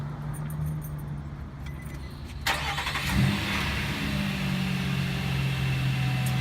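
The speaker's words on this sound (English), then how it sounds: "you're going to want to start the vehicle up." A car engine starts up during a vehicle inspection, keys jingling first, then a cranking burst and catch settling into a steady close idle hum that continues to the end, with no voices.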